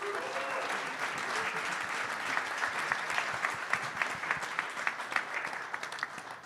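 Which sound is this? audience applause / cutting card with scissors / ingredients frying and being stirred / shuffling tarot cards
audience applause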